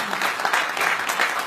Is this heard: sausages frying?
no